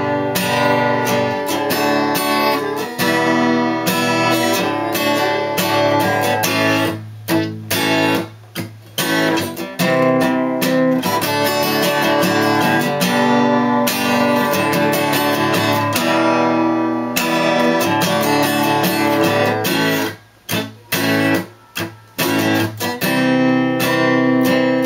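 A song's chorus strummed on acoustic guitar in a steady, continuous rhythm, close and full, with a few brief pauses between phrases and no voices.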